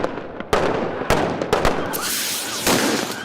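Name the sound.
gunfire during police dog training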